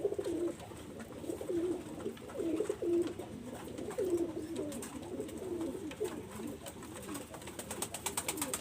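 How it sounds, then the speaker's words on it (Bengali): Teddy Golden pigeons coo continuously in soft, rolling, repeated calls, moderately close, over faint background noise. "দুইটা কবুতারে আমি দেখাচ্ছি দেখেন দুইটা কবুতারে ছেম চোখ কোনো রকম উনিশ বিশ পাবেন না"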